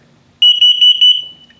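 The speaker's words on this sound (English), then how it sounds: "Carbon monoxide coming up." A carbon monoxide alarm in a 2022 Flagstaff HW Hardside 21FSHW RV sounds during a test, giving a loud, piercing, rapid pulsing beep that lasts under a second before cutting off.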